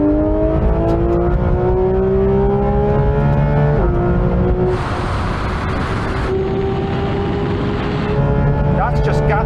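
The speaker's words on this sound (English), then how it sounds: "now we have a rolling race from 50 miles an hour, this time with the cars in third gear" A Porsche 911 GT3 RS and a GT3 pull hard in third gear from 50 mph in a rolling race, loud sustained engine drone climbing steadily in pitch with a brief gearshift-like dip and rushing wind noise.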